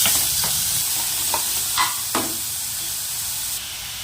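Vegetables frying in oil in a pan while cooking breakfast, a steady close sizzle with a few soft stirring scrapes, no voices.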